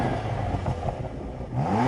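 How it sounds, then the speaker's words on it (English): A stationary BMW M2 CS with a sports exhaust revs up close by, a loud rising engine roar that climbs again near the end. "I love the fact that BMWs let you rev all the way up"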